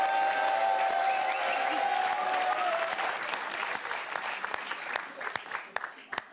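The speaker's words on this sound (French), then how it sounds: "On peut applaudir très fort parce qu'il aura tout fait." A studio audience on a French television talk show breaks into loud, sustained applause that gradually thins out over several seconds into scattered individual claps.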